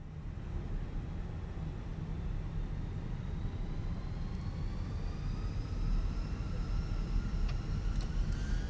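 Fenix A320 airliner taking off from JFK in Microsoft Flight Simulator: a steady, loud engine roar with rising whine tones as thrust builds, continuous with no speech.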